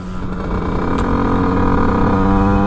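A moped's small two-stroke engine with a 100cc setup revs hard on the throttle after the clutch engages, giving a loud, sustained buzzing drone that holds steady and climbs slightly in pitch.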